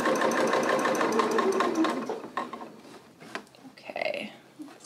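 Sewing machine stitching an elastic waistband casing on a dress, running in a steady fast whirring burst for about two seconds, then slowing into short stop-start stitches with brief pauses and faint handling of fabric.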